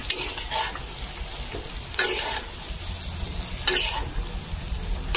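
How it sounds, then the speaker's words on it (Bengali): Papaya slices fry in a pan with a steady low sizzle, broken by three or four louder scraping stirs of a utensil against the pan. "এই যে দেখো পেঁপে ভাজা,"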